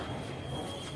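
Inside a passenger train carriage at a junction in Bihar, a steady low rumble of the moving coach runs continuously, with a faint high whine above it and no voices.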